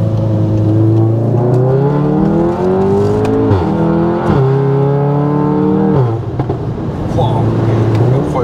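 A Volkswagen Golf 7R with a Stage 2 tune accelerates hard, its loud engine note climbing steeply through several quick gear changes, each marked by a brief dip before the revs rise again.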